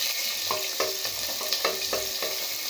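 Small onions (shallots) frying in hot oil for mutton kuzhambu, a steady close sizzle punctuated by regular scraping stirs roughly every half second, with no talk.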